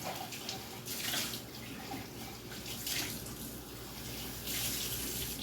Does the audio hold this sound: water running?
yes